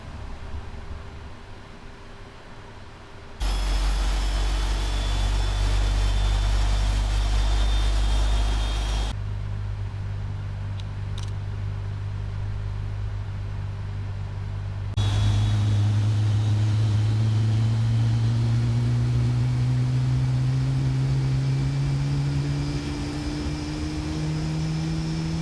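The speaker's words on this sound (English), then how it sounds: "let's go ahead and start engine number 1." Airliner jet engines spooling up one after another in Microsoft Flight Simulator 2020 on a Nippon Cargo freighter, a steady loud whine and rumble that steps up in stages, ending in a rising turbine whistle.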